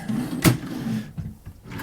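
An empty wooden dresser drawer in an Embassy Suites by Hilton hotel room near Kansas City International Airport slides and knocks shut with one brief, close thud over quiet room tone.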